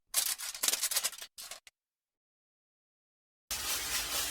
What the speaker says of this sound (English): now I'm going to take some foil. We are going to wrap these up tight.